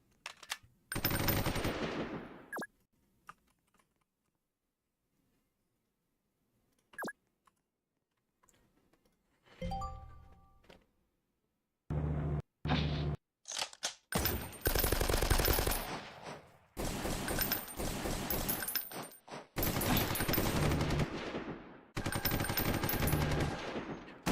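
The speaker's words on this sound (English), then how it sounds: "Sure, I'll move you over and shoot him." Gunfire in the Roblox combat game Noobs in Combat, with rapid automatic bursts, a short single burst, a long quiet gap, scattered clicks, then dense repeated volleys.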